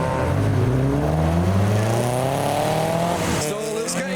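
A modified car accelerates away from a car show in heavy rain, its engine revving up through rising gears with a tire-on-wet-road hiss, loud and close, then fading as it leaves.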